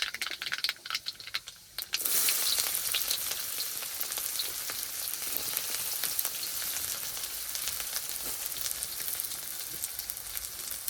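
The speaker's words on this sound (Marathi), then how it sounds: "तर आपण टाकू जिरं मोहरी तेल" Cumin and mustard seeds sizzle in hot oil in a kadhai over a wood fire, starting with a sharp burst of crackling after a quieter moment and then holding a steady, close, loud fizz to the end.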